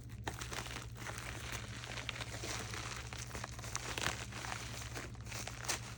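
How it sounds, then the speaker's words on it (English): Soft plastic bag crinkling and rustling while a craft supply package from Beebeecraft is unboxed, faint and continuous over a steady low hum, with no speech. "There's going to be a lot of bag rustling."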